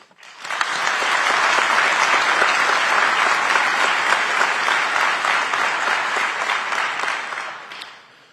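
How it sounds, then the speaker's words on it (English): A large ceremony crowd at a police promotional and academy graduation applauds family and friends, loud sustained clapping that swells quickly, holds steady for several seconds, then tapers off. "let's take a moment and give a round of applause for the family and friends"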